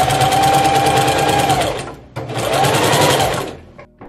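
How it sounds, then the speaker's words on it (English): A sewing machine fitted with a walking foot stitches through several thick layers of denim for a tote bag, running in two long continuous bursts of rapid, steady needle chatter separated by a brief pause. "Time to sew my bag, and I actually switched over to a walking foot because this is quite a few layers of denim"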